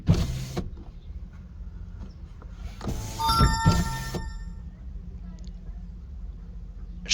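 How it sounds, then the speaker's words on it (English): A Toyota power window motor whirs as the glass rolls up, a brief strained electric hum lasting about a second between quieter stretches, close by in a car cabin with faint background rumble. "And then we will do the same by rolling up the window and then hold the button for 5 to 10 seconds"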